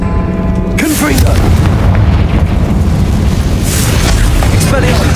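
A Confringo blasting spell explodes in the Hogwarts Legacy video game, a loud booming blast amid continuous rumbling combat noise and game music, with dense crackling bursts throughout.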